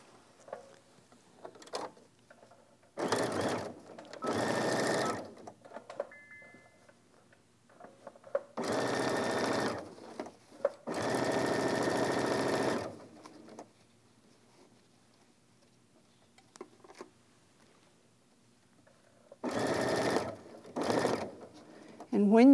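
A sewing machine stitching a fabric bag in several bursts, each a steady loud whirring run of a couple of seconds, separated by quiet pauses, close to the machine.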